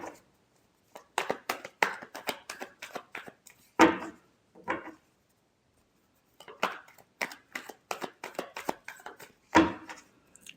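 Tarot cards shuffled by hand in two runs of quick, crisp papery riffles and taps, close and fairly quiet, separated by a brief pause, with no talking.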